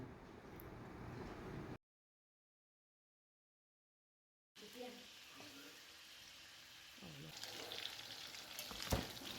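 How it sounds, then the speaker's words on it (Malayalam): Chicken pieces shallow frying in sunflower oil for butter chicken, a steady sizzle with a gap of silence partway, then resuming with faint clinks. "അപ്പോൾ ഇത് നല്ലോണം ഫ്രൈ ആക്കി എടുക്കരുത്, ഷാലോ ഫ്രൈ ചെയ്തെടുത്താൽ മതി"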